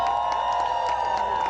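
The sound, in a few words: rally crowd applauding and cheering for Poland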